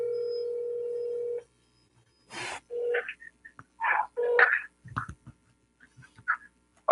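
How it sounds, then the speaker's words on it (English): A telephone dial tone holds steadily, then drops away, followed by a series of short DTMF keypad tones beeping one after another at irregular intervals as a call is placed. "Gil, I'm calling you on the phone because we're having trouble with the audio"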